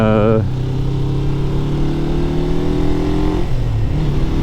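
A motorcycle engine is revved up close for rev matching during a downshift, with a rising steady tone that drops partway through as the gear changes, alone with no speech.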